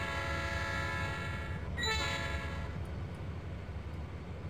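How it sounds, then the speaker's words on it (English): A locomotive horn in the train-driving game Trainz A New Era sounds as a long, steady, loud chord over a constant low rumble of the train. "Pull that horn."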